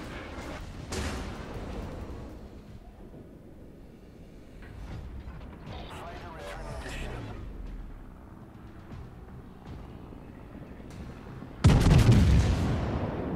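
Battleship Alabama firing its main-gun shells in World of Warships, with a low rumbling mechanical backdrop of creaks and clanks, one earlier muffled boom and a loud, sharp cannon blast near the end.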